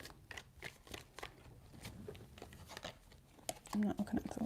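Tarot cards being shuffled by hand, a soft riffling and flicking texture in quick bursts, quiet and close, with a voice speaking briefly near the end.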